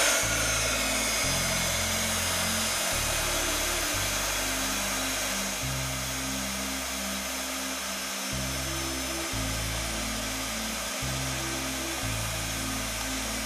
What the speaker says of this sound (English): So I'm just going to use a heat gun and heat emboss.